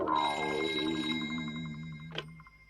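An electronic telephone ring with a pulsing, repeating tone, fairly close, ending in a short sharp click, in a Doraemon cartoon.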